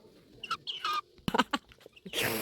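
Chickens in a cold, wet coop at night, a few close, short clucks and squawks coming in irregular bursts with gaps between them, no talking.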